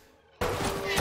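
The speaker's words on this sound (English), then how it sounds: "Is he gonna dual wield a light machine gun?" Light machine gun fire in a Dawn of the Planet of the Apes movie scene bursts in after a near-silent moment, a dense sustained volley of rapid shots that stays loud to the end.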